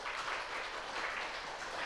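Applause from a church women's elders' lecture audience, a dense, even wash of many hands clapping at moderate distance, unbroken for about two seconds with no voices.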